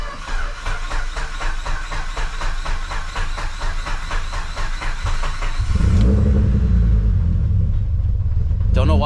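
Mitsubishi Evo 8 rated at 550hp, fitted with big injectors, running with a rough pulsing idle, then a sudden loud deep rumble as it revs up near by, with a voice talking over it.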